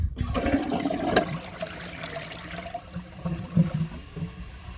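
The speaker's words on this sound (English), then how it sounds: "The tank's just about full, and I'm going to give it another flush." An American Standard Champion 4 toilet flushing, a close, rushing gush of water that swirls and drains over several seconds before tapering into gurgles and trickles.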